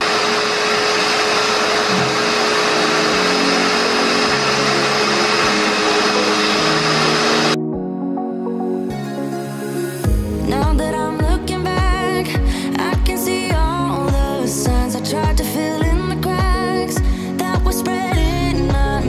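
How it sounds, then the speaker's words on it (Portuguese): Vacuum cleaner running loud and steady with a constant whine for several seconds, then cutting off, followed by a busier stretch of clattering and mixed household noise. "esse aspirador, ele tira as coisas que tá lá no fundo"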